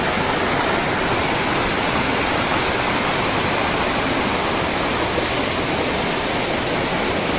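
Crystal-clear river water gushes through the forest at Meenmutty waterfall, a loud, unbroken rushing roar that stays steady from start to finish with no voices.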